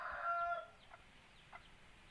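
A few soft, short chicken clucks in quiet outdoor surroundings after rain, with a brief louder call at the start.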